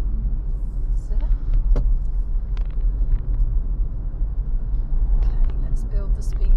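A car climbs a hill on a loose rural gravel road, its engine a steady low rumble held in one gear, with faint crunching and rattles in the cabin.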